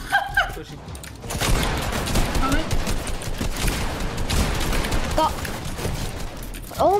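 Shotgun blasts and other gunfire crackle throughout a Fortnite match, a dense run of close, loud shots with no real pause. Voices and short electronic game cues break through here and there.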